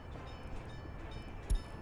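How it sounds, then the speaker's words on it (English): Trains rumble along in the rail-building game Workers and Resources, a steady low mechanical drone with a faint distant horn-like tone, played fairly quietly. "We got 2 trains butting into each other."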